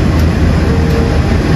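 Sawunggalih passenger train locomotive 20142, a loud, close, steady diesel rumble that holds without a break for a short moment.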